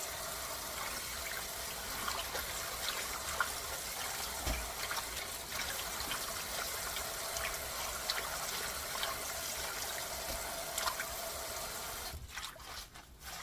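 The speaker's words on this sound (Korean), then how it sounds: "다듬은 열무를 깨끗이 흙이 다 떨어질 때까지 3번 정도 씻어줍니다" Water sloshes and trickles continuously as young radish greens are rinsed in a basin to wash off soil, a steady close wet swishing without talk, fading at the end.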